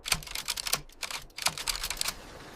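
Clattering keystrokes from a battered typewriter, quick irregular clicks in short runs with a brief pause midway, close and fairly quiet.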